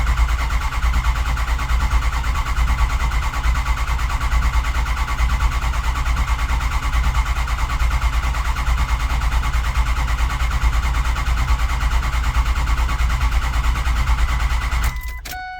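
A 6.0 diesel engine cranks continuously without catching, a loud steady starter-driven churn with dense mechanical clatter that runs for about fifteen seconds before cutting off abruptly.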